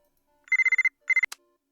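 A phone ringtone in the video game Buried Stars plays as a burst of rapid repeated electronic trills, a short pause, then a second shorter burst ending in a sharp click, fairly loud and alone.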